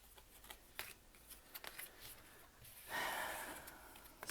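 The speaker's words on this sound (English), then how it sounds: "we'll start off with shuffling some cards" Tarot cards shuffled by hand in a series of soft riffling bursts, ending in a louder, longer flurry as the deck spills and fans out.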